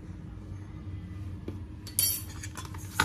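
Light clinks and scrapes of a spoon stirring seasoning with sugar and pepper in a bowl for Vietnamese fermented fish sauce, soft and close, with a couple of sharper taps near the end.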